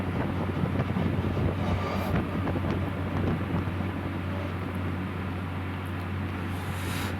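A train rolls through mountain country past a deep gorge, a steady loud rumble of wheels and carriages with a constant low drone and gusty wind buffeting the microphone throughout.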